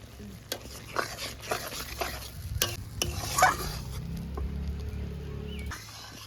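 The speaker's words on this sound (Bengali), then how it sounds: "যতক্ষণে তেল না ছাড়ে ততক্ষণ অবধি কষাতে লাগবে" Tomato paste and spices are sautéed in oil in a pan for a prawn malaikari. A spoon scrapes and taps against the pan in irregular strokes over a soft sizzle, without any talking.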